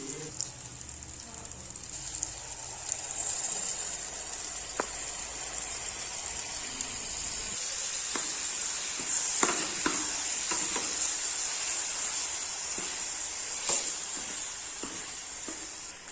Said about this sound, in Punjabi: ਤੜਕੇ ਨੇ ਤੇਲ ਛਿੜਨਾ ਵੀ ਸ਼ੁਰੂ ਕਰ ਦਿੱਤਾ ਹੈ ਤੇ ਹੁਣ ਅਸੀਂ ਇਸ ਵਿੱਚ ਐਡ ਕਰਾਂਗੇ ਪਾਲਕ ਦਾ ਪੇਸਟ